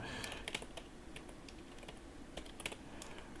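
Computer keyboard typing, a faint steady run of quick key clicks in irregular bursts, heard alone.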